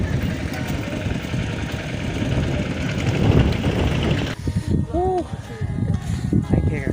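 A steady tractor engine idles and rumbles nearby at a village wedding, with voices talking over it.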